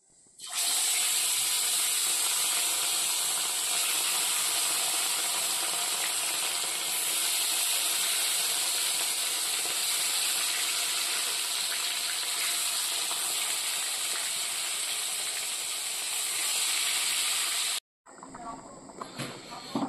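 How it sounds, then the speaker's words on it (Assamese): Fish frying in hot oil in a wok, heard as a loud, continuous, close hiss that holds steady for most of the time and then cuts off abruptly near the end. "এতিয়া মাছ প্ৰথমে ফ্ৰাই কৰি লোৱা হ'ব"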